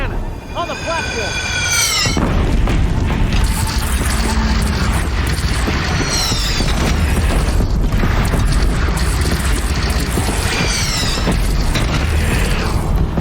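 Heavy cannon fire and loud mechanical booms from a battle against robot machines in Horizon Zero Dawn, dense and continuous, with shrill squeals and game voices shouting through it.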